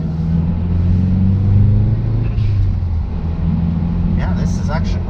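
A swapped engine in a Mazdaspeed3 drones and rumbles steadily from inside the moving car, pitch shifting slightly as it pulls, with occasional voices over the cabin noise.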